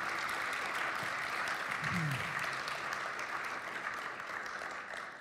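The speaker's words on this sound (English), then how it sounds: "Why don't we give both of these gentlemen a big round of applause." An audience at an atheist–Christian debate in a church in Burnsville applauds steadily, a broad wash of clapping from a moderately distant room, fading slightly toward the end.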